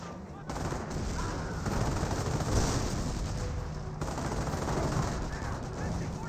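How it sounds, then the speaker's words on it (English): A 60mm mortar firing in Company of Heroes amid a dense, continuous battle din of rattling gunfire and booms, with faint talk mixed in throughout. "60mm mortar firing"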